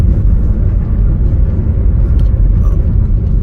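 Low, steady road rumble and drivetrain drone fill the cabin of a 2017 Honda HR-V E CVT in motion. It sounds close and continuous with no talk.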